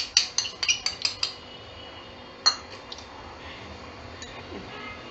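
A spoon clinks sharply against a bowl while spice is stirred into crispy fried pasta, a quick burst of about eight metallic taps followed by a lone louder clink and faint scraping.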